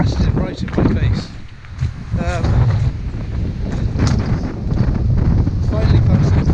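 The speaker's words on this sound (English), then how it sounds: "we're getting a lot of wind off there, and it's blasting right in my face" Strong coastal wind off the channel between England and Wales blasts into the microphone during an ultra run, a heavy, close buffeting roar that fills the whole stretch.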